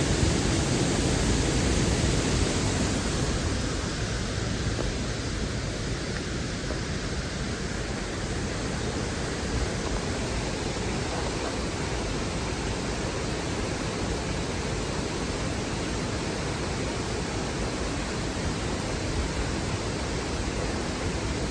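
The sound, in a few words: man-made waterfall in Colorado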